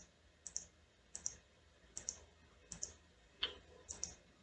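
Sharp, evenly spaced mouse clicks, about seven across a few seconds, each a crisp tick in a quiet room during a software installation on a Windows computer.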